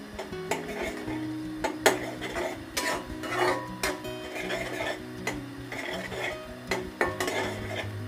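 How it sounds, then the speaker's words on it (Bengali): An egg being scrambled in a pan: a spatula scrapes and taps the metal in an irregular rhythm for several seconds, with a faint sizzle underneath. "এখানে আমি একটি ডিম ঝুরি করে নিচ্ছি"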